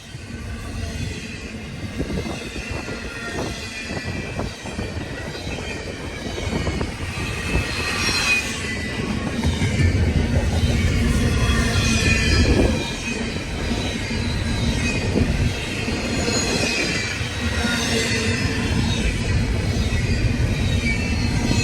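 Freight train with distributed power locomotives rolling past a GO station: a loud, sustained rumble of wagons with wheel squeal and rhythmic clicking on the rails, swelling near the middle of the pass.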